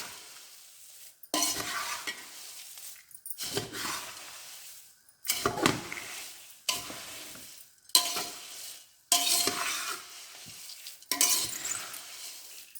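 Puffed rice dry-roasting in a pan and stirred in repeated bursts of dry, rattling scraping, each lasting about a second, separated by short pauses. No voices.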